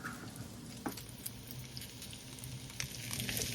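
Garlic and hot peppers fry in a pan as the first layer of a slow-braised oxtail with barley, a soft steady sizzle and patter throughout with occasional small pops, quiet and close, growing slightly louder at the end.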